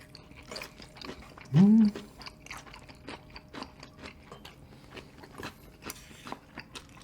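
Crunchy seokbakji, chunky Korean radish kimchi, chewed close to the mic in a home-cooked meal, with repeated crisp bites and munching over a soft background and a brief hummed vocal sound.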